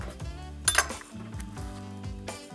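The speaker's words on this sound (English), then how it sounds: "We'll cut into one of these." A knife and cutlery clink against a plate while cutting into a baked Forfar bridie, a flaky pastry pie filled with meat and onions, giving a couple of sharp metallic chinks amid soft crunchy handling sounds, close and fairly loud.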